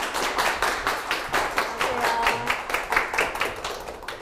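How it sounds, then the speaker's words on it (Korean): An audience claps to welcome a speaker to the stage at a talk, a steady patter of many hands, moderately loud and even over a few seconds. "큰 박수로 자리에 모셔볼게요."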